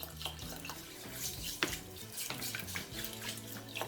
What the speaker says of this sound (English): And now we are going to add the water